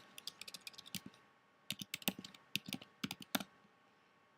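Someone typing a short caption on a computer keyboard: crisp, close key clicks in quick irregular bursts with a brief pause midway, no voices.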